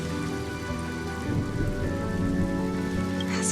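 Steady rain falls in the video game Honkai Star Rail, a continuous loud hiss and patter with no voices, swelling slightly partway through and holding even to the end.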